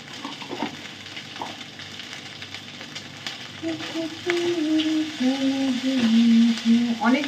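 Oil heating in a pan for hakka noodles sizzles and crackles steadily, growing louder and denser toward the end, with a clear close-up frying hiss throughout.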